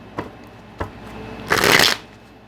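Tarot cards being shuffled by hand during a reading, a few soft flicks and taps followed by one longer crisp riffle burst, close and fairly quiet with no talking.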